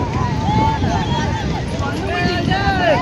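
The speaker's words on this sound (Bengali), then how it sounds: "ফু করে হাওয়া দিচ্ছে" Strong wind blows on a crowded beach on a hot day, a steady roaring rush buffeting the microphone throughout, with faint distant voices mixed in beneath it.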